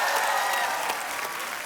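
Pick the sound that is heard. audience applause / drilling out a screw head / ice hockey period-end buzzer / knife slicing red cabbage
audience applause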